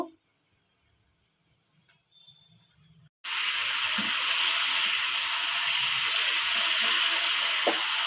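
Marinated chicken hits a hot pan of oil spiced with cinnamon, cloves and cardamom, a loud steady sizzle and hiss erupting after a quiet start and continuing close up for several seconds.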